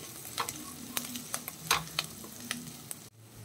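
Green chillies sauté in hot oil for pepper chicken, a soft steady sizzle with light stirring taps, then a quick drop in sound near the end.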